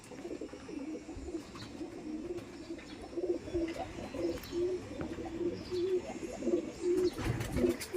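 Punjabi pigeons coo in repeated soft, throaty phrases close by, a steady rolling rhythm of calls with faint background noise and a few light chirps.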